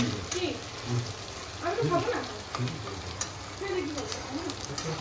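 Chopped onions frying in a pan give a steady close sizzle, broken by a few stirring scrapes, while people talk quietly in the background.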